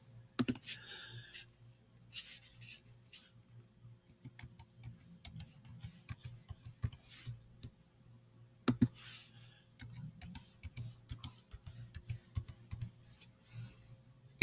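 Keys on a computer keyboard clatter in quick, uneven bursts as a password is typed, close and fairly quiet over a low steady hum, with a sharper key strike now and then.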